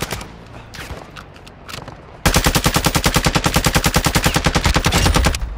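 Loud, rapid automatic gunfire in Call of Duty: Modern Warfare II, a sustained stream of evenly spaced shots that starts abruptly after a couple of seconds of quieter scattered game sounds.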